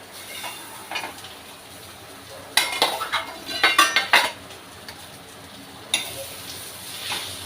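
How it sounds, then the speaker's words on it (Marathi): Cooked eggplant being stirred in a pan with the lid off, making clattering utensil-on-metal scrapes and clinks in two bursts of several knocks, fairly close, with quiet stretches between and no talking. "आता आपण ढाकण काढून एकदा हलवून घेऊ सगळं"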